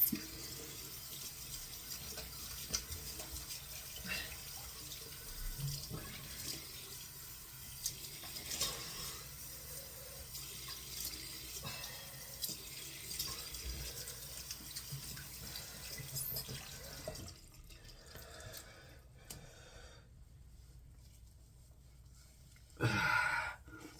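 Tap water runs steadily into a sink while someone rinses their face, a continuous splashing wash for most of the stretch before it fades to near quiet, then a brief louder burst of water near the end.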